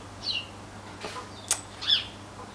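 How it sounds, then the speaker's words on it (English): Outdoors, a bird gives a few short, sharp high chirps spaced over a couple of seconds, fairly clear above a faint low hum and soft background noise, with no talking. "A bird's still chirping"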